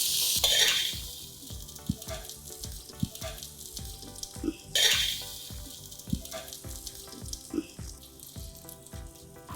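Food tossed in a pan of hot butter and oil for a roast chicken dish, with a steady sizzle and repeated scraping and stirring clatters, two louder bursts of frying at the start and midway.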